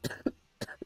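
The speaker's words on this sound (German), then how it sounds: "Entschuldigung fürs Husten." Two quick double coughs from a person nearby, short harsh bursts about half a second apart, in an otherwise quiet room.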